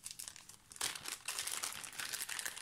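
Plastic packaging of a diamond painting kit being opened, a close, steady run of crinkling and crackling with a sharper tearing burst partway through, alone without talk.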